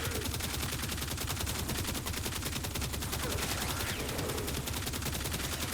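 Haalvu weapon in the video game Warframe firing in a rapid, unbroken stream of shots that stays dense and steady at even loudness from start to finish.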